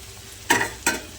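Chillies fried and stirred in a pan for soya chilli, with two quick scraping strokes over a low hiss of oil.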